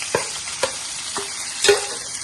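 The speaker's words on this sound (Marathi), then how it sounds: "आता ही आपण मोकळी केलेली डाळ टाकून घेऊया त्यात." Loosened dal hitting hot spiced oil in a pan, sizzling steadily while a spoon scrapes and stirs in a few distinct strokes, close and clear with no talking.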